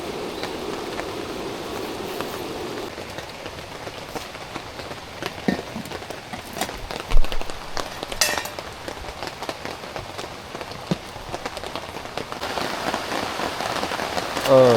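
Rain falls steadily at a jungle campsite, a dense patter of drops on surfaces that carries through the whole stretch, close and continuous, with a few louder knocks and taps mixed in.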